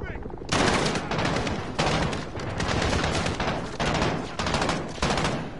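Loud, dense automatic gunfire from the video game Call of Duty: Modern Warfare (2019) rattles in sustained bursts separated by brief gaps, with voices shouting underneath.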